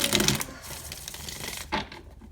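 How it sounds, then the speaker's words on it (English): Tarot cards being shuffled by hand, a quick riffle of crisp card flutters at the start followed by a soft sliding shuffle and a final sharp snap as the deck is squared, close and alone. "One more shuffle."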